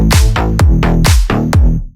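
A series of loud synth hits in a slap house drop repeatedly sweep downward in pitch, six or so sliding drops in quick rhythmic succession.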